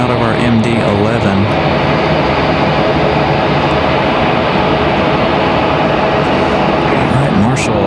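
McDonnell Douglas MD-11 jet airliner roars continuously and loud at Raleigh-Durham International Airport, a steady heavy engine rumble with a voice talking over it.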